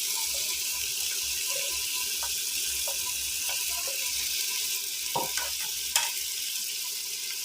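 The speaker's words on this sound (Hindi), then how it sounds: "इन मसाला जात को मिक्स कर लेते हैं और अच्छी तरह भून लेते हैं।" Spices and masala frying in a pan for a capsicum salan give off a steady, close sizzle with light stirring and occasional scraping clinks.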